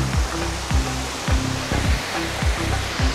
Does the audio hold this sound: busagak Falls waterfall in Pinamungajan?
yes